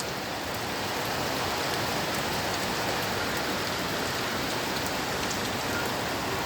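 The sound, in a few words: heavy rain falling at midnight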